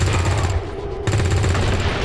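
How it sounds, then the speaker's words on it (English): Rapid overwatch gunfire in the turn-based strategy game XCOM 2 (Long War 2), a loud, continuous burst of automatic shots hammering in quick succession, with a brief dip before the firing resumes. "Here goes all the Overwatch fire then."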